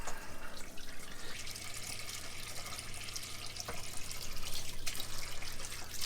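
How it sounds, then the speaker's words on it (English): Hot water tap on a narrowboat running into a sink full of lunch washing-up: a steady, close gush of water with a faint trickle and splash throughout, no voices. "Let's turn the hot tap on."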